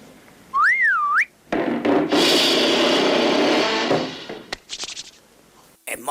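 A person whistles a short wavering, swooping tune alone, followed by loud rustling, thumps and scraping handling noises with brief squeaks.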